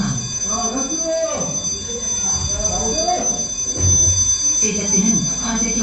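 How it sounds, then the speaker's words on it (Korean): A fire alarm rings in a smoke-filled room where students sit during an experiment, a steady high electronic tone that continues under a narrator's voice. "제작진은 화재 경보음을 울리고 학생들을 밖으로 탈출시킵니다."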